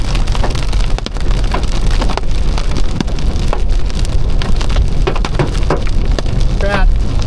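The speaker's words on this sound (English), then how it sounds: "Hail starting again." Hail of about 1 to 2 centimetres pelts down continuously during a severe storm in the Southern Tablelands, a loud, dense, steady clatter on surfaces.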